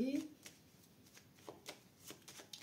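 Tarot cards being shuffled and laid out on a table, with a brief riffle followed by soft, scattered card slaps and slides, close and quiet, alongside a voice.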